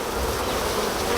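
Dense steady buzzing of many bees from a re-queened Africanized hive, a loud close continuous hum with no voices.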